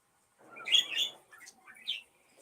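A pet bird chirps in a quiet room, giving a short burst of bright tweets followed by a couple of softer calls, close and alone.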